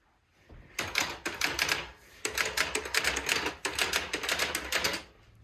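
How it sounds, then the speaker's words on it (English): Someone types on a typewriter in an office, two quick runs of sharp mechanical key strikes separated by a brief pause, close and crisp. "And I replaced one of my office computers with a typewriter for spur-of-the-moment waves of inspiration like this."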